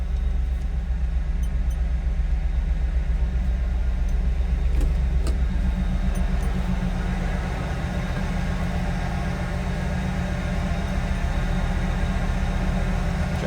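A 1994 Pontiac Trans Am 25th Anniversary edition with a 5.7 liter V8 and automatic transmission idles steadily, a deep, even low rumble that holds throughout with no talk over it.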